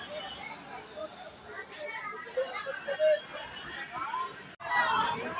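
Crowd chatter fills a busy railway station on the Bhaubeej festival day near Panvel, a steady hubbub of many overlapping voices with children's voices mixed in, fairly close and continuous.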